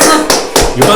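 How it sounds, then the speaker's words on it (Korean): Hand clapping, applause: three sharp, loud claps in steady rhythm within a second, close by. "박수!"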